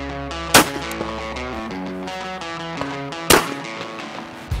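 A shotgun fires twice at clay targets outdoors, two sharp, loud cracks a few seconds apart standing out over steady background music.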